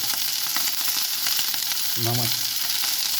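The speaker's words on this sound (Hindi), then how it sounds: "इस तरह डाल के भूनने शुरू करें और थोड़ा सा नमक" Nuts roasting with a little salt in a pan, a steady dense crackling sizzle throughout, with a brief tonal squeak or scrape near the two-second mark.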